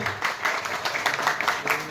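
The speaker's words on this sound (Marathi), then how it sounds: "एकदा जोरदार टाळ्या या सगळ्यांसाठी" Brief audience applause at an award ceremony in Solapur, scattered claps forming a short burst with faint voices underneath.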